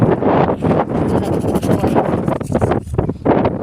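Strong mountain wind in Hail, Saudi Arabia buffets the microphone in a constant roaring rumble, gusting harder in places, with a faint voice barely audible beneath.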